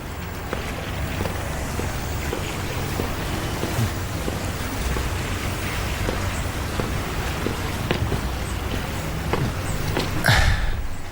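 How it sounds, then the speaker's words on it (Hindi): Steady rain hisses continuously, dense and even, with a low rumble underneath and a brief louder gust near the end. "फिर से बारिश शुरू हो गई।"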